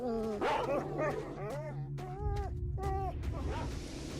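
A dog in the video game Stalker: Shadow of Chernobyl barks in several quick, loud yips and bow-wows spread across the clip. Faint background noise sits underneath, and no one speaks.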